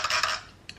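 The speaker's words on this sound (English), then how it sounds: "give it a bit more of a stir" A spoon stirs a powdery cinnamon drink in a cup with a quick burst of close metallic scraping and clinking, followed by one final light tap against the rim.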